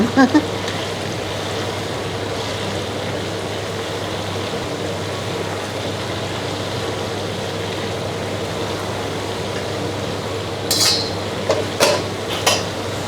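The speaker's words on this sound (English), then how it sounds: "But you have to keep on stirring this one." Fried sun-dried beef is stirred in a pan, with faint scraping and clinking over a steady background hiss, and a few sharp utensil knocks near the end; talk runs through it.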